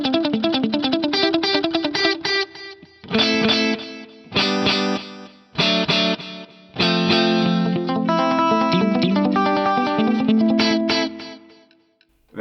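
An electric guitar plays through a delay pedal with lengthened repeat time, with reverb placed on the delay repeats, giving bright chiming notes in bursts that trail into echoing washes.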